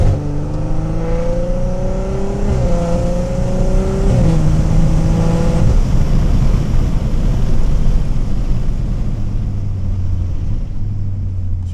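A big-turbo BMW 340i engine accelerates hard in first gear, loud and close, with a rising tone that steps up in pitch and then breaks into a dense, roaring rumble mixed with wind buffeting.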